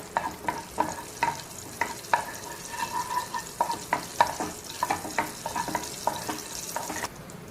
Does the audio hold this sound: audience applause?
no